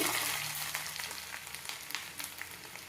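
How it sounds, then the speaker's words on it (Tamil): Mustard seeds splutter and pop in hot oil, a dense crackling sizzle with scattered sharp pops, close and moderately quiet, fading slightly over a few seconds. "கடுகு கடுகு பொரியட்டும்"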